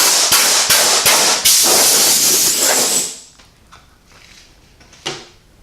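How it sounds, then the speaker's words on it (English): Compressed air blasts in short bursts, then one long steady hiss, blowing debris off paint protection film on an Exocet kit car, loud and close, tapering off to a quiet workshop with a final brief puff. "I'm going to go ahead and blow this off with some air."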